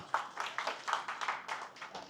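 An audience applauds at a corporate training session with faint, rhythmic rounds of clapping heard alone at a distance.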